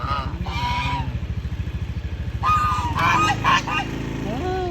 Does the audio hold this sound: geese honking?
yes